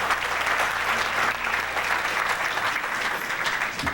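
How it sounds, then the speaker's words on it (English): An audience breaks into steady applause at a live event, dense clapping from many hands sustained throughout, close and loud without speech. "let's give our beloved sister, Lisa Left-Eye Lopez, a round of applause."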